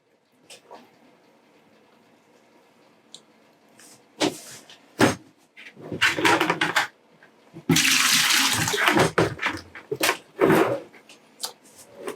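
Loud bursts of rushing, hissing water spray in uneven pulses through a Graco Ultra QuickShot airless paint sprayer being flushed clean, separated by quieter gaps with faint clatter.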